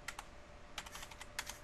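Faint, quick keystrokes on a computer keyboard come in three small clusters of clicks, typed while entering network router configuration commands, soft and close with no voice over them.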